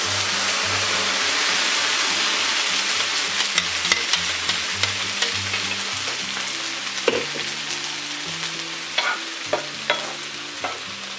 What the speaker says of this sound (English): I'm just gonna go ahead and add the sauce.